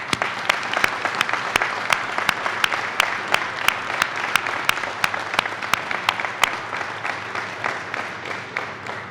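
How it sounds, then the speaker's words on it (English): Indoor audience applause at a civic honoring ceremony, a steady dense clapping that holds for several seconds and then slowly tapers, with a few sharp individual claps standing out. "Let's give this man a round of applause."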